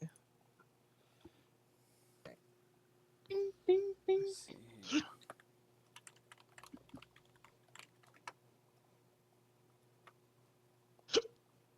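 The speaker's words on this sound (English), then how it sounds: "Hiccups." A voice making a quick series of hiccup sounds, three short bursts in a row and a few more later, close and quiet, among soft clicks, murmuring and brief talk.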